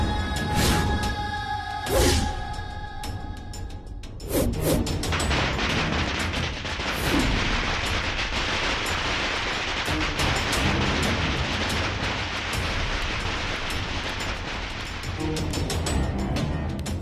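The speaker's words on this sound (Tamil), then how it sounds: "பட்டாசு கொளுத்துல" Firecrackers crackle and pop in sharp bursts, a few loud bangs early on followed by a long dense stream of rapid crackling explosions that continues without pause.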